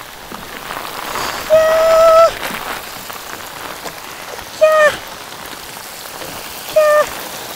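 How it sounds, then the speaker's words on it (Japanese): A heavy passing rain shower pours down at an aquaculture fish pen, a steady dense hiss of drops hitting surfaces, broken by a person's brief high-pitched exclamations three times. "すごい通り雨が"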